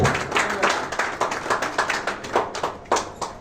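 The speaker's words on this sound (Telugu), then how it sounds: "నీరెడ్డి లక్ష్మణ్ గారిని కూడా సార్ చప్పట్లు కొట్టాలి సార్" An audience applauds at a Kanshi Ram Jayanti gathering, honouring a former Kala Mandali singer: a steady run of close, crisp hand claps in an uneven rhythm, thinning out toward the end, with no voices over it.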